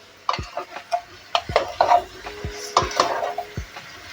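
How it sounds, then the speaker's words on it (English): Beef innards frying in a pan and stirred now and then, giving a run of distinct wooden and metal scrapes and knocks against the pan over a soft sizzle, close and fairly loud, with no talk. "While frying this, you stir, not keep stirring, but stir after some time so it doesn't stick to your pan."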